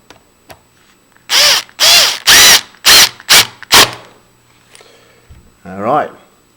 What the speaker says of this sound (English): In my case, it's an impact driver because it's quick.